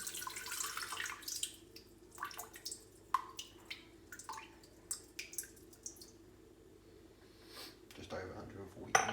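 Filtered room-temperature water is poured into a bowl on a kitchen scale for sourdough pizza dough, with soft intermittent splashes and drips, then a fuller trickle near the end.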